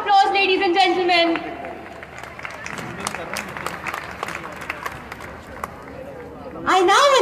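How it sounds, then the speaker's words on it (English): A school annual day audience breaks into a sustained round of applause that swells for several seconds, with a voice speaking over the start and again at the end. "Let's have a huge round of applause, ladies and gentlemen."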